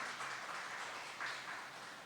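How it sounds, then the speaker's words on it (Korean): Congregation at a Friday church service applauding in welcome, a soft, steady wash of clapping heard from across the room for about two seconds, with no voices over it. "여러분 큰 박수로 좀 환영해 주시면 감사하겠습니다."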